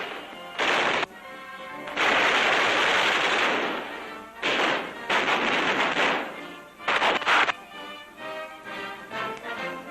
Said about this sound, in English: Manning a .50 caliber gun, he will soon be in action against the enemy.